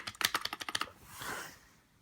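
Rapid soft rubber dome keyboard key presses, about ten quick muffled clacks in a row, close by, then a faint fading rustle.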